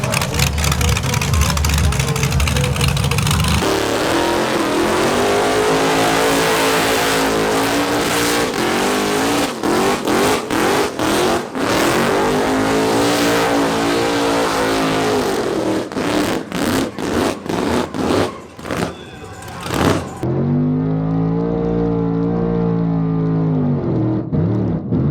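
A car with a new, untuned fuel injection setup roars through a burnout on a burnout pad, the engine revving hard in loud sustained bursts with tire squeal, then dropping to a lower idle near the end.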